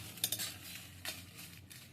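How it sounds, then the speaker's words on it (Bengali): Dried red chillies being dry-roasted and stirred in a hot wok, faint scraping and light clinking strokes of a utensil against the metal pan, a few quick taps then a softer scrape, close and quiet. "এই দেখুন লঙ্কাগুলোকে আওয়াজটা বুঝতে পারছেন এইরকমভাবে সেঁকে নিতে হবে"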